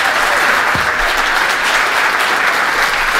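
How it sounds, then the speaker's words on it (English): Steady applause from a large audience, dense and continuous clapping throughout with no voices standing out. "So I think a round of applause for Jimmy."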